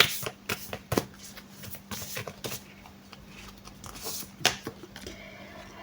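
Tarot cards drawn and shuffled by hand: a run of crisp, close card flicks and slaps in quick irregular bursts, with a soft rustle between them and no talking.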